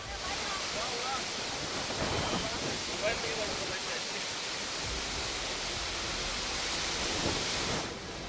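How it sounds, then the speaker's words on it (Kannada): Gokak Falls in Belagavi district, Karnataka, swollen by heavy monsoon rain, pours over rock in a steady, dense roar of rushing water that fills the whole stretch without letting up. "ಇದು ಬೆಳಗಾವಿ ಜಿಲ್ಲೆಯ ಪ್ರಸಿದ್ಧ ಗೋಕಾಕ್ ಫಾಲ್ಸ್"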